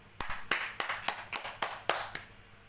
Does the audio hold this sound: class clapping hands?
yes